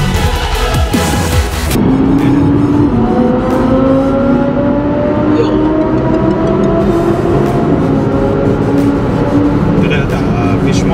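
Audi R8 V10 sports cars rev hard on a race track, with a continuous loud engine roar and rising, sweeping pitch as they accelerate past, while people talk over it.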